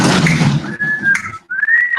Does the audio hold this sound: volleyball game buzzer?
no